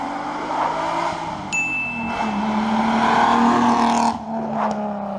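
An Alfa Romeo Busso V6 engine runs steadily close by, its deep tone rising slightly as the revs build and then settling back, with a brief high metallic tone near the start.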